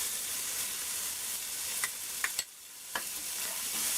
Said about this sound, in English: So after that 30 seconds, I'm going to add the chopped bandhania.